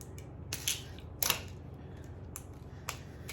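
Scissors snipping open a package while baking gluten-free cake mix cookies, a few crisp, close clicks and cuts spaced irregularly over quiet room noise.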